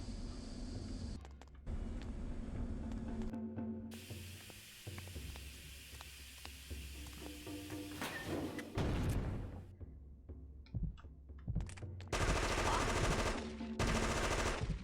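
Gunfire from pistols rattles in the video game Fear Effect, with bursts of rapid shots broken by pauses, game sounds and short louder blasts near the end, and no talking.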